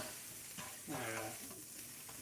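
Onions frying in a pan for shrimp tacos, a low steady sizzle with a few soft stirring scrapes, brief and quiet.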